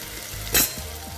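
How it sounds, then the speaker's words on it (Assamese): Potatoes and cauliflower frying in a pressure cooker make a low steady sizzle up close, with one short loud metallic scrape or clatter in the middle. "আলু আৰু ফুলকবিখিনি এইখিনিও অকণমান ভাজি ল'ম।"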